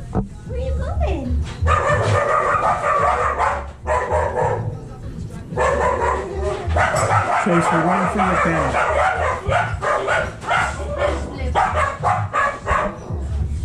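Several six-week-old puppies bark loudly and repeatedly in bursts close by, with some yips and whimpers, while a person talks over them.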